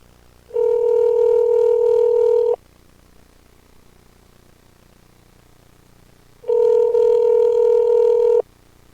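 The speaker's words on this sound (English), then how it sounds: "The first on-air phone call." Telephone ringback tone on a call being placed, two steady two-second rings separated by a long pause, loud and clean with no talking.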